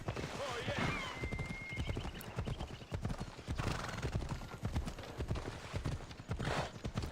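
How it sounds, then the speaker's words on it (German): Horse hooves clip-clop steadily in Assassin's Creed Odyssey, a near rhythmic trot in a Greek village setting, with a brief whinny early on and someone talking over the hoofbeats. "Mein Pferd."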